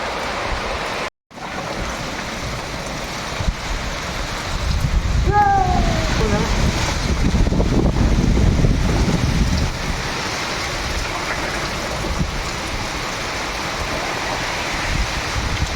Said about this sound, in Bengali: আধা ঘন্টা ধরে এখনো বৃষ্টি চলছে